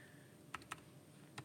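Keys being pressed on a calculator while entering numbers: a few faint, quick clicks in a quiet room, two close together and then one more after a pause.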